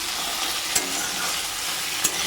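Curry cooks in a pan on a home stove after fish has been fried, giving a soft, steady sizzle with a couple of faint clicks from stirring or utensils, heard alone and fairly quiet.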